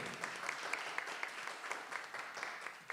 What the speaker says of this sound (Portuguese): Vamos aplaudir ao Senhor mais uma vez com alegria?